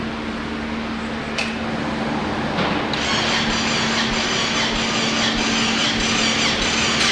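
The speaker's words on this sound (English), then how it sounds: "All right, give it another crank." A turbocharged Honda Talon side-by-side engine being cranked over, a steady mechanical whirring drone with a constant tone that continues throughout, fairly loud and close, with no talking.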